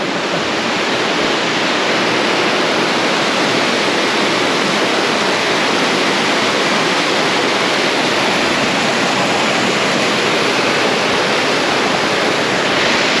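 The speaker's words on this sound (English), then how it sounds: "This is the last waterfall we have to get through" A waterfall near Panamint City ghost town, a loud, constant roar of rushing water filling the whole stretch without pause, close by and unbroken.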